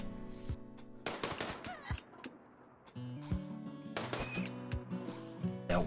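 Gunfire in RimWorld as colonists shoot down an attacking animal: a handful of sharp, close shots spaced across the stretch over a steady background hum.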